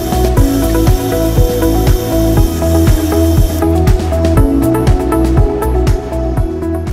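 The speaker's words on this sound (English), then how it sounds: "I also need to cut away half the diameter of the axle." Lathe or power tool machining a 6mm steel axle, cutting away half its diameter; a loud, steady rhythmic grinding-cutting chatter with repeated pulses throughout, close and continuous with no talk.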